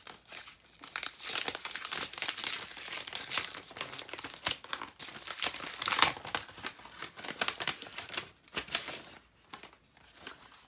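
Paper envelope holding a greeting card being torn open by hand, with a steady run of close crinkling and ripping that rises and falls over several seconds, alone with no talk.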